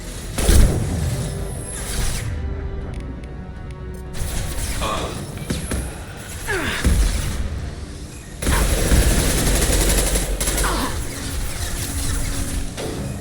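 Rifle fire in Mass Effect 2 on Insanity difficulty: repeated loud shots and booming impacts with mechanical clatter, layered over ongoing game sounds.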